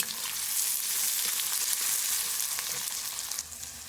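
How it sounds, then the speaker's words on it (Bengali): Chopped onion frying in oil with dried red chilli and green chillies, a dense steady sizzle with faint stirring ticks, close and even, easing slightly near the end, with no one speaking. "পেঁয়াজটা ভালোভাবে ভাজা হয়ে গেছে,"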